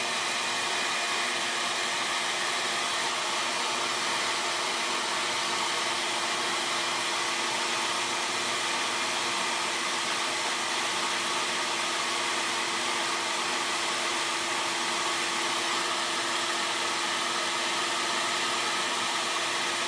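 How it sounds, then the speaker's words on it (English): A vacuum cleaner runs at a steady, loud, unbroken roar throughout taper boring on a milling machine, with no voices heard. "Sorry for the vacuum noise"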